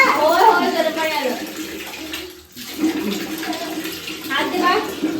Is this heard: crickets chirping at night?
no